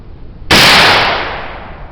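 A black powder test shot made with ash charcoal goes off as a single loud, sharp blast followed by a decaying whoosh, with a brief quiet before it and no voices.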